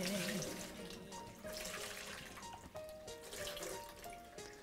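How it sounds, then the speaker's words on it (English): Tap water runs steadily into a sink as hands are washed after using the toilet, a continuous near splashing hiss with faint dripping and clinks, no talk over it. "Wash your hands."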